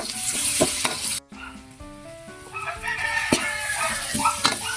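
Pork and onion for bopis sizzle steadily in a hot pan with stirring scrapes, a rooster crowing faintly in the background; a loud continuous frying hiss runs throughout with a brief dropout.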